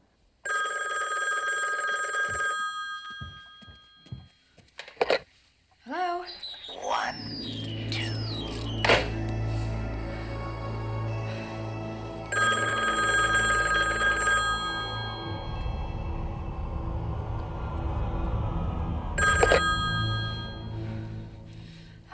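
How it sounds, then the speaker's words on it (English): A telephone bell rings in repeated bursts in a tense horror film scene, with a woman answering briefly between rings, soft movement noises and a low rumbling score underneath. "And the phone rings."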